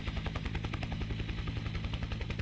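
Huey helicopter in the DCS flight simulator game, a loud, steady rotor chop that pulses rhythmically over a continuous engine drone throughout, with no talking.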